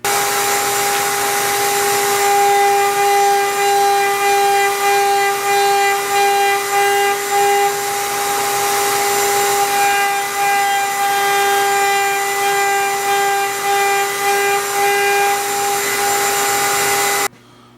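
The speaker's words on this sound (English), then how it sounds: "I got a 45-degree beveling bit in there with the ball bearing guide on it" A router fitted with a 45-degree beveling bit and ball-bearing guide trims the edges of tube acrylic object cells, a steady loud whine with strong sustained tones running unbroken for about seventeen seconds before cutting off.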